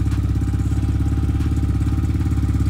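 A motorcycle engine idles after an oil change, a close, steady pulsing throb that holds an even rhythm without revving.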